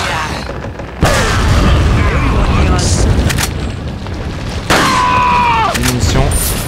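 A grenade blast in Resident Evil 4, a loud booming burst that hits suddenly and rumbles on, followed by a second heavy explosion a few seconds later amid game sound effects.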